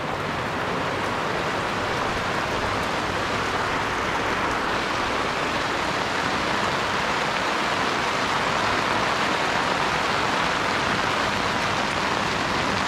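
A light rain shower falls on a small Casita RV. The patter is steady and dense for the whole stretch, with no voices.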